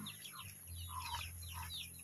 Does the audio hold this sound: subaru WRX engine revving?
no